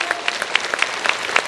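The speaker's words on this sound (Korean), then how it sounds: "저를 위해서 한번 뜨겁게 한번 박수해 주시기 바랍니다" A church congregation at a Sunday service applauds warmly, a brief burst of many hands clapping close and lively with no talking over it.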